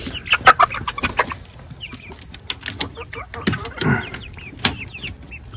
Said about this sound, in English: I'm gonna try to get in here without letting all these chickens out.